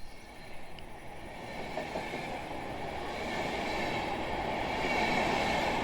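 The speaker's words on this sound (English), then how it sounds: "So there's the train moving." A train rolls past near Schönhagen Airport, Germany, in Microsoft Flight Simulator 2020, its steady rumble and wheel clatter swelling gradually louder as it approaches, with no voices over it.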